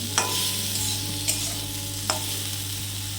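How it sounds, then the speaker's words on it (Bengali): Potatoes with salt and turmeric sizzle steadily in a pan while a spatula stirs them, with three sharp scraping clicks spaced through the frying. "নুন হলুদ দিয়ে আলুগুলোকে তিন চার মিনিট মতো ভেজে নেবো"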